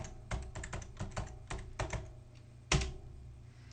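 Typing on a computer keyboard while entering a Linux terminal command: a quick, uneven run of close key taps ending in one heavier thunk like an Enter press, with no talking.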